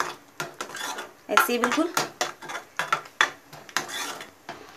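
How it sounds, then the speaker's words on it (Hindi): A spoon scraping and stirring masala puree in a metal pan for matar paneer, a series of rhythmic clinks and scrapes, close and fairly quiet, with a brief spoken remark. "इस मसाले को हमें लगातार चलाते हुए 2 मिनट के लिए पकाना है।"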